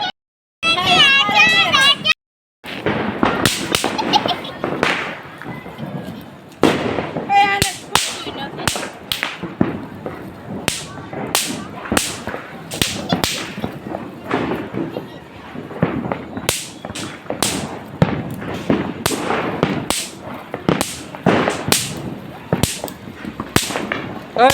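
Diwali firecrackers burst in a residential street, a long run of sharp, loud cracks and bangs in irregular bursts, some in quick clusters, over nearby voices and street chatter.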